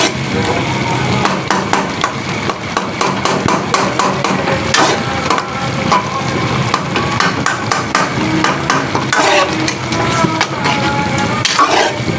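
Tomatoes and stock are stirred and fried in a pot for a smoky yogurt beef curry, with loud continuous scraping, clattering utensil strikes and sizzling throughout and no talk.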